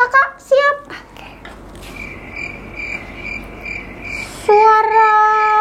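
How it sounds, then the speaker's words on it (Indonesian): A cricket chirps in a fast, high, pulsing trill that runs for a couple of seconds after someone briefly speaks at the start, followed by a louder, clearer burst of chirping. "Nah, seperti itu suara jangkrik."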